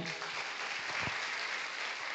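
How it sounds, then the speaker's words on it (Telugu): Applause from a church congregation during a Sunday worship service, dense continuous clapping from many hands filling the room at moderate level. "చప్పట్లు కొట్టరే"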